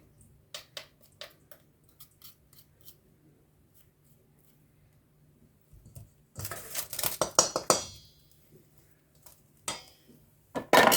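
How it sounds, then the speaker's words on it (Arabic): Chicken ingredients with onion and half a cup of oil are stirred in a pot, with a few scattered light taps, then a burst of clanking, scraping spoon-on-metal noise and a final clatter, all close. "بس كده نقلب كل المكونات دي كلها ببعض."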